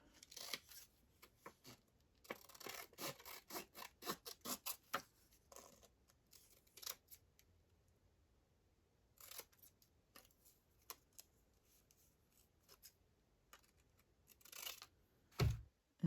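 Scissors cutting paper while a collage weekly planner is assembled: quiet, crisp snips in irregular bursts, clustered early and again near the end, separated by near-silent pauses.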